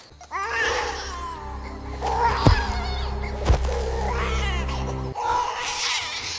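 A human baby cries in drawn-out, wavering wails, close and fairly loud, with a couple of short breaks between cries.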